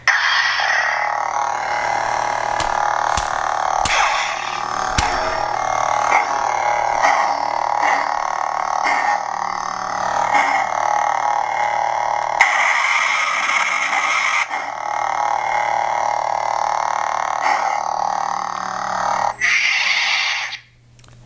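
Sanken Crossguard lightsaber with a blazing red blade: a loud, continuous buzzing hum runs throughout, broken by several sharp swing clashes and surges, before ending with a short retraction sound.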